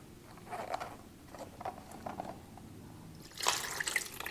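Water shaken and drained from a Kawasaki ER6N radiator reservoir clogged with rust and dirt: faint sloshing and splashing in short bursts, ending in a louder gush of pouring liquid up close.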